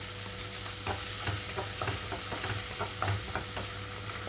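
Onions and tomatoes fry in a pan for Andhra-style rasam, giving a steady close sizzle with a spatula stirring in repeated soft scraping strokes.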